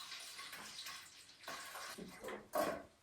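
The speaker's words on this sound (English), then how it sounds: "just pour some water in it." Water pours in uneven gushes into a drain, close and moderately loud, splashing and gurgling with a heavier surge near the end, during house renovation work.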